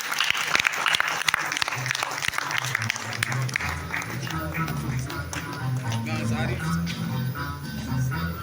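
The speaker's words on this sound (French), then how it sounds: "Vous allez nous rejoindre sous les acclamations du grand public" Audience applause at an award ceremony, a dense crowd clapping steadily throughout, loudest and sharpest at the start, with background music and voices under it.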